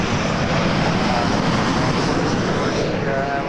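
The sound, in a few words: WestJet Boeing 737-700 from Calgary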